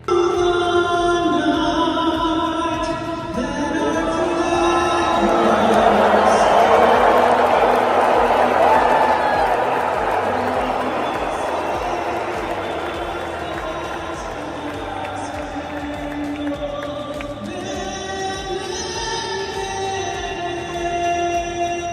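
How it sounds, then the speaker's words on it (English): A large crowd at an event with Trump in attendance cheers and roars loudly as the national anthem is sung, a sustained swelling wash of voices rising mid-way and then easing off without letting up. "The crowd lapped it up, cheering as the anthem was sung."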